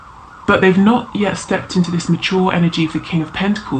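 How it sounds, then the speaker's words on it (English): Emergency vehicle sirens wail outside, faint and distant, beneath continuous close-up talking. "Sorry about the sirens."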